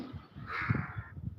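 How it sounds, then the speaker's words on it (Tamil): A crow cawing outdoors, a few harsh caws rising above a low rumble of background noise. "காக்கா பிடிக்க போறியா?"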